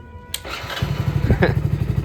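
A faulty motorcycle with an electrical problem sputters and catches, then settles into a steady, throbbing idle close by.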